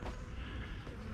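Honey bees buzzing steadily in an opened hive, a dense low hum filling the whole moment at moderate, even loudness with no voices.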